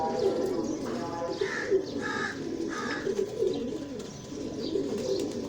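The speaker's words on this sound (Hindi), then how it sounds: "ये पहला कबूतर प्रिंस कमगर है" A Prince Kamgar pigeon coos in a series of soft, rolling calls repeated several times at close range, over a faint background murmur.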